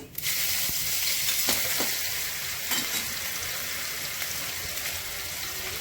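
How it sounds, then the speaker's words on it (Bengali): Cumin and garam masala sizzle in hot oil as grated ginger and garlic go in for an egg curry, a bright continuous frying hiss with occasional stirring clicks, close and loud with no talk. "জিরে গরম মশলা ফোড়ন করছি, গ্রেট করা আদা রসুন দিচ্ছি"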